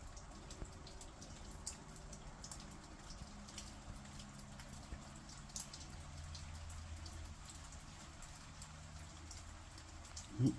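Steady rain falling at night in a creek-side outdoor setting, a soft continuous patter of drops with scattered louder drips, faint and without talk.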